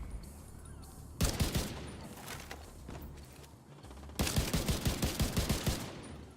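Automatic weapons in Division 2 fire two sharp, rapid bursts of shots, one early and a longer one near the end. The shots ring out clearly over a quiet background hum.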